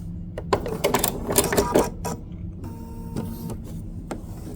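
A sewing machine stitches fusible raw edge applique on a quilt, a dense run of rapid mechanical clatter for the first two seconds, then dropping to a softer, steady motor hum with faint ticking, close and with no talk.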